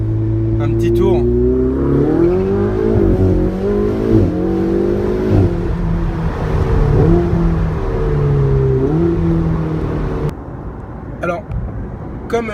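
Ferrari 488 GTB with a 670 hp engine, driving and accelerating: a loud, close engine note that climbs through several rising sweeps as it revs through the gears, then eases off near the end.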